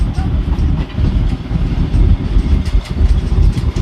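The Darjeeling toy train rolls along its rails with a loud, close rumble and irregular clattering wheel knocks that never let up.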